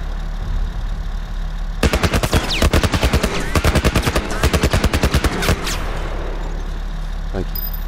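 Rapid machine-gun bursts from an enemy vehicle in The Last of Us Remastered rattle out for several seconds over a low idling engine rumble, close and loud, then stop, leaving the engine drone.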